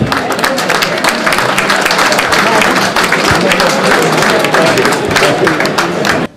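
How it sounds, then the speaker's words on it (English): A crowd applauds an award recipient walking onto the stage at a banking awards ceremony, with dense, continuous clapping that stays loud for several seconds and then cuts off abruptly. "A round of applause for him, please."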